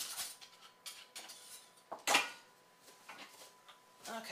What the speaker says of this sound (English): I'm stirring up the sauce real fast